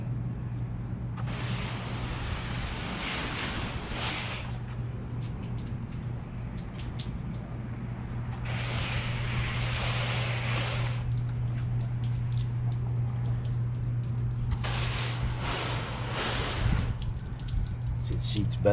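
Shower-setting water spray rinsing a car during a wash with ceramic auto shampoo, heard as three long hissing bursts of several seconds each over a steady low hum, close to the microphone.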